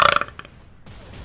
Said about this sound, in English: and I'm gonna burp